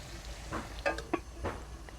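Turmeric, salt and spices frying in a hot pan while being stirred, giving a faint, steady sizzle with a few soft scraping knocks from the spoon and no talking.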